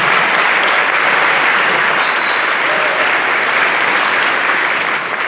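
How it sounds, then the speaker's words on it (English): Steady, enthusiastic clapping from a large crowd at a middle school honors concert, a dense even wash of applause that continues without pause. "You give yourselves a round of applause."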